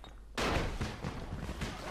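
An exploding zombie in the Dying Light video game sets off a sudden loud blast, followed by a rumbling, crackling burst of debris that lingers close by.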